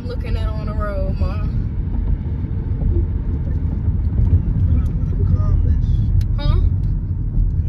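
A car drives along the road with a steady low engine and tyre rumble, close and continuous throughout, while a person talks over it.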